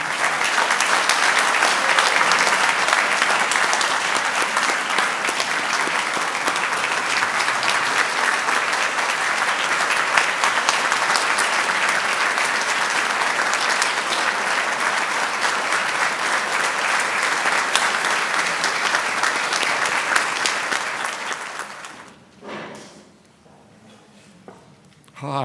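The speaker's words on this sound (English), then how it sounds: "I invite you to join me here as we give him a loud round of applause." Loud, sustained audience applause in a tribute to Rabbi Daniel Friedman, a dense wash of clapping lasting about twenty seconds before it abruptly fades into a quieter room.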